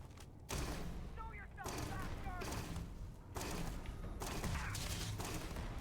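Bursts of EM weapon fire in the video game Starfield come as several rapid, loud volleys with short pauses between them, set against busy game noise.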